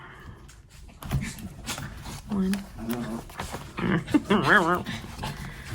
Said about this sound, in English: the dogs go crazy behind me